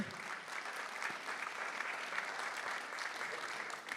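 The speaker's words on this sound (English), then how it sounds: "So give them a round of applause, please, the young people." Audience applause for young performers at a charity event, steady dense clapping from a sizeable crowd sustained evenly throughout without a break.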